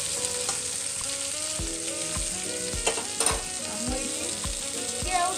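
Mango pieces fry in a shallow amount of ghee in a pan, giving a steady close sizzle with repeated scraping knocks from stirring, during preparation of khichdi and gur kheer.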